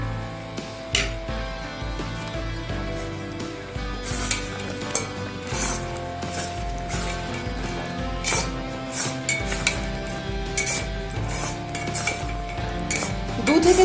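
Fried gokul pithas are added to thickened milk and stirred in a pan. A utensil clinks and scrapes against the pan with a soft simmering sizzle underneath, over steady background music.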